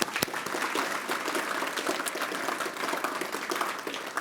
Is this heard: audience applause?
yes